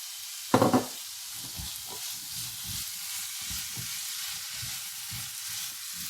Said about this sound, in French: Je vais ajouter les pois chiches.